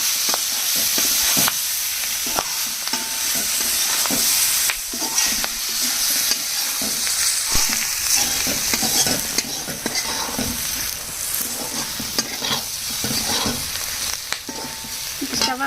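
Garlic chili fry sizzles steadily in a hot pan while being stirred, with repeated scraping strokes over the constant frying crackle and no talking.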